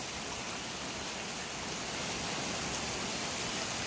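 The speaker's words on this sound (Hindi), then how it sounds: "बारिश की रफ्तार काफ़ी ज़्यादा तेज़ इस टाइम मज़ीद हो रही है।" Heavy rain pours steadily during a hailstorm in Chochh, a dense, continuous hiss filling the air at even loudness throughout, with no voices.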